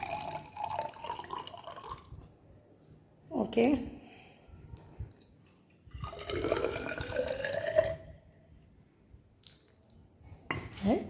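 Water poured into a measuring cylinder while measuring 100 ml of distilled water for a soil water-holding capacity experiment; a few short bursts of pouring and splashing, close and moderately loud, with a person speaking briefly in between.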